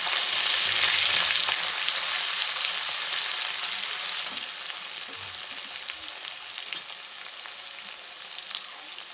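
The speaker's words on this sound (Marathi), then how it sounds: "तेल गरम झाले, तेलमध्ये तर पहिल्यांदा मोहरी, जिरे, आता बारीक केलेलं कोथिंबीर आणि लसूण" Mustard seeds, cumin, chopped coriander and garlic tempering in hot oil give a steady, close, loud sizzle with fine crackles throughout, easing slightly partway through.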